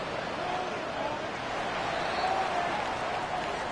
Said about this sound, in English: So several thousand 12th men and women cheering as the Seahawks win it.